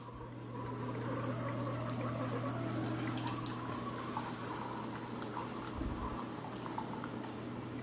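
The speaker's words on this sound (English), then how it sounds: "It's dribbling now." A coffee maker runs with a constant low hum while coffee dribbles and trickles steadily into a cup, heard up close and without talk.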